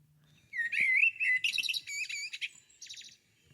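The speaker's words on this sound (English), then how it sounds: "The Blackbird." A blackbird's song plays back as a run of rich, fluting whistled phrases followed by higher twittering notes, clear and fairly close, with no talking over it.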